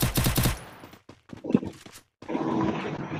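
Free Fire gunfire in a ranked squad match: a quick burst of automatic shots up close, then scattered bangs and a gap of silence, followed by a longer noisy rush of firing.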